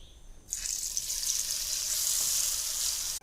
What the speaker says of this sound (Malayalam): എണ്ണയിലേക്ക് നമുക്ക് ഇട്ട് നല്ലതുപോലെ വറുത്തെടുക്കാം